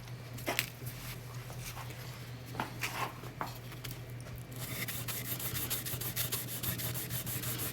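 Sandpaper rubbing steadily over a wooden archtop guitar part, a close, continuous scratchy stroking that grows denser and brighter toward the end, with a few light taps early on.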